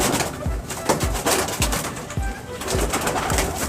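Pigeons coo in a repeated rhythmic pattern, close and moderately loud, with soft rustling between the calls.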